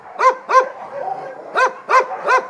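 Dogs bark at a crowded animal shelter, five sharp, loud, close barks in two quick bursts with short pauses between.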